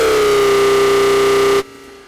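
Hardstyle screech synth preset called Brut from the Hardstyle Screech Designer plugin: a loud, distorted, buzzing sustained tone with a steady pitched core and dense harmonics, held for about a second and a half before cutting off abruptly.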